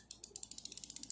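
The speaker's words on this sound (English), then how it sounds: "for home use, good quality ratchet" A good-quality home-use ratchet wrench clicks in a quick, even run of about a dozen crisp, close ticks, alone with no voices.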